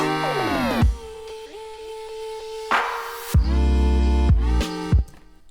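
Electronic music plays sustained, layered synth chords with sweeping filtered tones, punctuated by deep bass hits and a rising noise swell.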